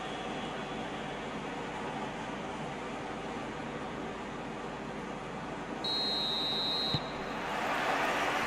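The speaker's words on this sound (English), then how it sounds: "There's the whistle." A referee's whistle in the football video game eFootball PES 2021 gives one steady, shrill blast of about a second, heard over a loud, constant stadium crowd roar.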